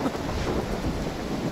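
Rain in the video game Far Cry 3, a steady broadband hiss of downpour with low rumbling wind-like noise, loud and unbroken throughout.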